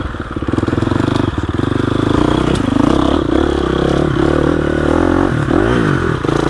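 A 2021 GasGas EX 350F dirt bike engine revs and labours while climbing over loose rocks in low gears. Its loud, steady, close engine note rises and falls, with clatter and scraping from the stones.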